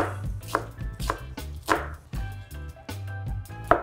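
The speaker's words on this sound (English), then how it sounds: "And I'm just gonna give the onion a rough chop." A knife roughly chopping an onion on a cutting board for molcajete salsa, about eight crisp, evenly spaced thuds close up with no voices.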